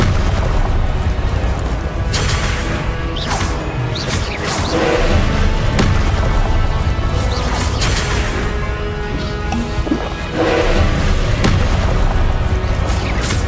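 Confringo explosion spells in Hogwarts Legacy, a video game: a dense, loud wash of booming blasts and crackling bursts that rolls on continuously with repeated heavier impacts.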